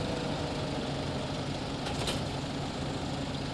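A Massey Ferguson 8S tractor in Farming Simulator 25 runs with a steady, droning engine hum at an even level, close and continuous with no voices, and a brief faint hiss partway through.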